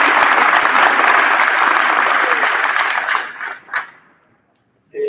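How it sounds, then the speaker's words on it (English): An audience at a high school athletic hall of fame induction night claps for a state runner-up, with loud dense applause that fades out over the last seconds, leaving near silence before a brief new sound. "We'll give him a round of applause"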